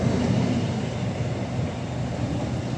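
A London King's Cross train pulling out of Peterborough station, a steady low rumble and wheel noise close by that fades slightly as it rolls away.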